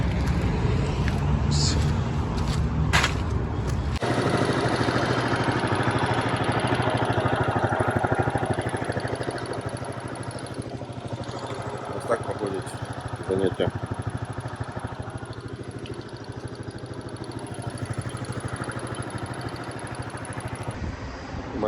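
A large motorcycle engine runs nearby at a driving-licence training session in Poland, a loud rumble at first that drops to a quieter idle with occasional revs, while someone talks over it.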